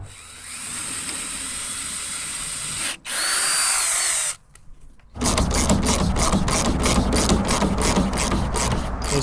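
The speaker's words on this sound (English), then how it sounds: "when we drill the second one in here, it allows you a little bit of room to move it around" A power drill drives screws into wooden truck box sides: a buzzing run, a brief stop, a short burst, a pause, then a loud pulsing stretch as the screw is driven home.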